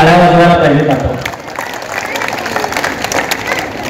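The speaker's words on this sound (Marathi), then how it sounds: "खरं तर या मंडळासाठी एकदा जोरदार टाळ्या वाजवायला पाहिजे" An audience at a Marathi poetry festival bursts into loud applause right after a voice at a microphone, the clapping continuing as a dense, fairly close patter that eases slightly toward the end.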